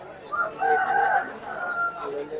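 A rooster crows loudly nearby in one long, drawn-out call, with murmuring voices and market bustle in the background at a weekly rooster market.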